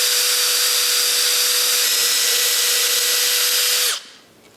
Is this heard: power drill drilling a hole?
yes